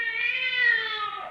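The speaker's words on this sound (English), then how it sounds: "Gray Whiskers is my cat." A single loud, drawn-out meow from a cat called Gray Whiskers, close and steady, falling slightly in pitch at the end, with nothing else heard.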